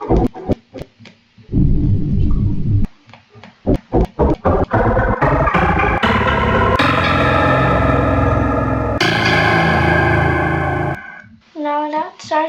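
A Sprunki character sound built in Scratch: a loud, heavily processed sequence of distorted, chorus-laden voice-like blips that climbs into a sustained buzzing drone, then ends in a quick stuttering flourish.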